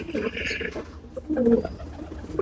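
Female pigeons coo in two soft, close bursts of low throaty calls, with a faint rustle and light background noise between them.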